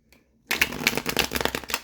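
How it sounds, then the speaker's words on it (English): Tarot cards shuffled by hand, a quiet moment followed by a continuous crisp riffling and flicking of the deck, close and fairly loud, with no talking. "I'm going to shuffle them"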